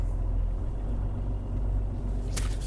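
A 1995 Mercedes-Benz 814 dump truck creeps along slowly, its engine giving a steady low rumble close by, with a brief hiss-like burst near the end.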